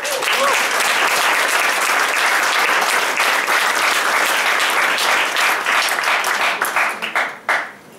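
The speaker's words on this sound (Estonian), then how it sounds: "Aplaus!" Audience applause at a band concert as the trumpet players are introduced, a dense steady roar of clapping that holds loud and even, then thins into scattered last claps near the end.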